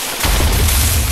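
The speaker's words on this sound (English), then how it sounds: "Throwing a pipe bomb." A pipe bomb blasts in a zombie shooter game, a loud, sustained low boom rolling on for about a second without voices.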